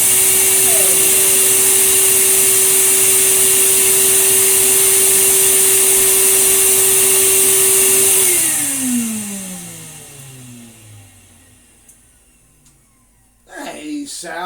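A Numatic NV200 vacuum cleaner hums loudly and steadily with a high whine, then switches off and spins down in a falling tone. A voice speaks briefly at the end.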